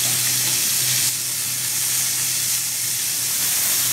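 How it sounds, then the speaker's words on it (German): Beef sears in hot oil in a frying pan for stroganoff, giving a loud, steady sizzling hiss with a low hum throughout and no speech. "Als erstes etwas Öl in die Pfanne, heiß werden lassen und dann geht das Fleisch dazu und das Fleisch scharf anbraten."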